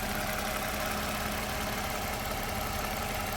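A 2009 Toyota RAV4 engine idles with cylinder 4 misfiring from a faulty ignition coil, giving a steady, close mechanical drone with a slightly uneven pulse throughout.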